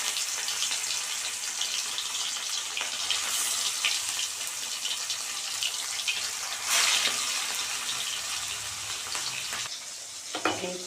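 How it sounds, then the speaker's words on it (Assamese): Fish pieces frying in hot oil in an Assamese kerahi wok, a loud, continuous close sizzle with occasional spattering bursts and stirring, lasting about eleven seconds with no talk. "এতিয়া মাছখিনি ভাজি লওঁ।"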